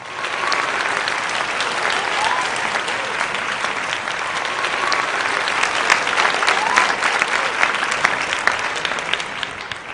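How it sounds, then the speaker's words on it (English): A room full of people applauds steadily for a guest being welcomed on stage at a quiz event, dense even clapping sustained for the whole stretch with no talk. "Please, with a round of applause, let's invite on stage Julian Bennett."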